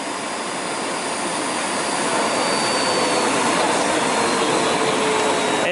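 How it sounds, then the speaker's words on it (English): A Lindhaus Aria Elite canister vacuum cleaner runs at max power, a loud, steady, unbroken motor roar with an airy whine that holds close and constant throughout. "And then we can go to our max power right there."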